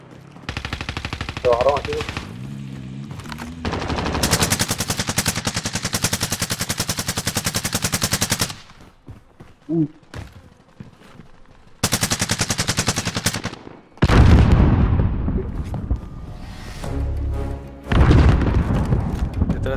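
Gunfire in the Call of Duty: Modern Warfare video game comes as long, loud automatic bursts and heavy booms, broken by short gaps, with a brief voice speaking between shots.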